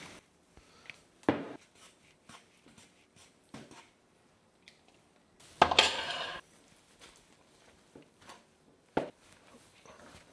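Honey cookie dough being mixed in a bowl, heard as scattered clinks and scrapes of utensils against the bowl, with one louder clattering burst partway through and quieter handling sounds in between.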